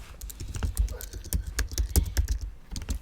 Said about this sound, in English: here we just need to type the text which is called continue